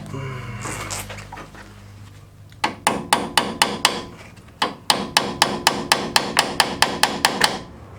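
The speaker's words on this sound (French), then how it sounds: "Un petit coup de marteau." Repeated sharp hammer strikes on metal car parts during a Peugeot clutch replacement, delivered in two quick rhythmic runs of about a dozen blows each, loud and close.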